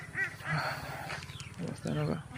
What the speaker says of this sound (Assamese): সেইফালে হাঁহবোৰ চৰি আছে এইফালে পানীত